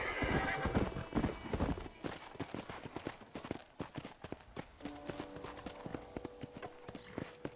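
Rapid hoof clip-clops from a horse in the video game Red Dead Redemption pound steadily, followed by a loud horse whinny near the end, all close and clear with no talking.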